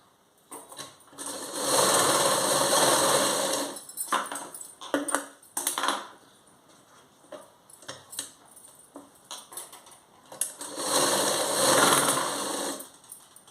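A domestic sewing machine stitches tucks into a blouse, running in two loud sustained bursts of steady mechanical whirring separated by a quieter stretch of short stops, clicks and handling noise.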